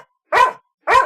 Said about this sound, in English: or is he just barking because he can hear me and can't see me?